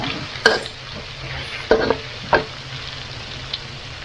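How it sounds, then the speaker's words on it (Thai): Yellow chilies and pork stir-fry in a pan, a low sizzling bed broken by a few distinct scraping clanks of the spatula against the pan, close and uneven, with no voices. "ผัดพริกเหลืองแล้วก็ แล้วก็จะใส่หมูนะคะทียงก็หอมแล้วก็จะผัดแร้วก็ลงผัด"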